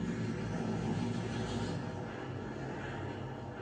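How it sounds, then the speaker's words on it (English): In the game Vigor, a distant airplane drones overhead as a steady, rumbling wash of engine noise, moderately loud and slowly fading, with no talking. "That's the plane."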